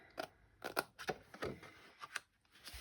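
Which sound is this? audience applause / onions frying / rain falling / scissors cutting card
scissors cutting card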